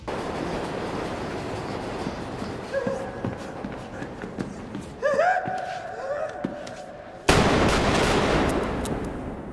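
Gunfire from the subway-station scene in the film Joker: sharp, loud shots in a tiled underground station, the last burst harshest, mixed with voices and film sound.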